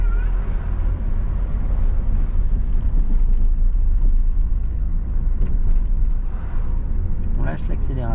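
A car accelerates during a driving lesson, continuous close engine rumble and road noise swelling briefly as it picks up speed, with voices in the cabin.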